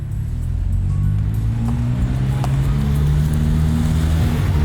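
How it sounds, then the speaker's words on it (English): A BMW E30 M3 heard from inside the cabin while driving, a steady loud low engine drone and road rumble throughout with no talking. "I'm actually driving inside of the E30 M3."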